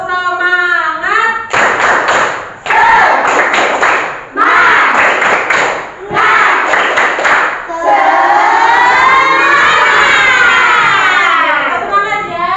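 A school class does rhythmic spirit clapping, bursts of clapping separated by short pauses, then a longer stretch of steady applause, loud and close.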